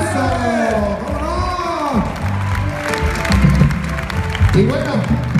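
Applause and cheering from a crowd at a comedy show during Yucatán Week in Mexico, rising and falling under loud talk and shouting, with occasional whoops.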